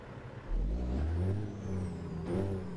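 A heavy truck with a Caterpillar 3406E engine in American Truck Simulator rumbles and revs up, a deep low drone with a rising whine on top, loud and close, with no talking.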